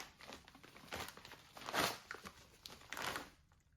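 A small book package being opened, with close, quiet crinkling and crumpling of paper or plastic wrapping in irregular bursts, fading to near silence at the end.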